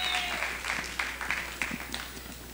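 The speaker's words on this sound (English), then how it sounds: "Give her a big round of applause." An audience at a televised singing competition gives faint, uneven applause that tapers off, heard at a distance over a steady hum.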